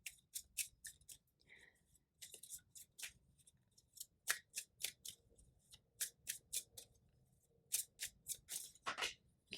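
Tarot cards are drawn and handled, giving crisp, close swipes and snaps in irregular bursts with short gaps, soft and with no talking.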